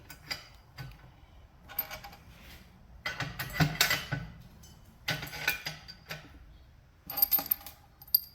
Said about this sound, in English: now you just basically start dropping the bolts into the holes